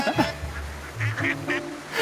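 Ducks and a swan quack and honk in short bursts close by, a few overlapping calls over soft background noise.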